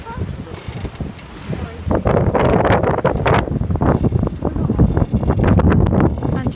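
Wind buffets a tender boat as it manoeuvres alongside a ship in choppy water off Guernsey, with a steady engine rumble and splashing, gusty noise throughout.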